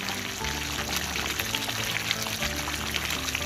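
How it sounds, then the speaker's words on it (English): Brown sugar poured into a pan of simmering spicy pork adobo, a steady grainy, sizzling pour that runs without a break over the bubbling of the sauce and stays fairly close. "now I'm going to put the brown sugar in"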